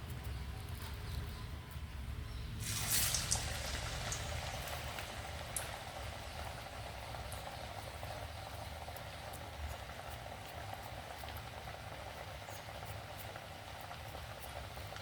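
Ash gourd vadalu frying in a batch of hot oil, a soft steady sizzle and crackle with faint low hum underneath, one brief louder hiss early on, no talking.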